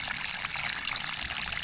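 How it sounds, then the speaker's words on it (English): Water is poured onto a newly planted tomato in garden soil, making a steady, close trickling and splashing hiss that continues without a break. "Give it a nice watering."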